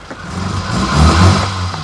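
A 1983 Ford Fiesta's 1-litre engine revs loudly and close, climbing in pitch and then easing off over a couple of seconds with no voices.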